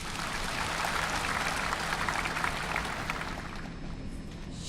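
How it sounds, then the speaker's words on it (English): Broad, even applause from assembly members at China's CPPCC annual session, a large hall full of hands clapping steadily in approval before tapering slightly at the end. "If no, please applaud for approval."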